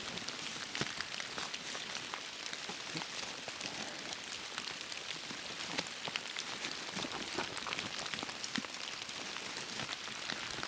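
Steady rain falls through an autumn forest, a dense even patter of drops on leaves and ground with scattered nearer taps, continuous and unbroken, with no voices.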